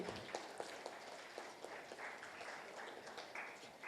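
Soft, distant-sounding applause from an audience welcoming the children taking part in a children's book event, with scattered individual claps standing out from a steady patter.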